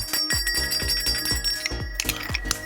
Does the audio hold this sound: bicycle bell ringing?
yes